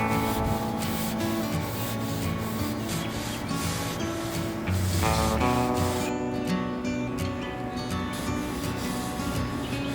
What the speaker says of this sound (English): we're going to go ahead and scrub everything down